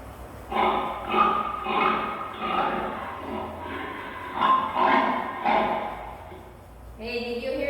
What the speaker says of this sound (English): That is the sound of a pig.